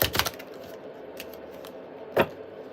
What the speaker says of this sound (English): I don't shuffle this way, by the way.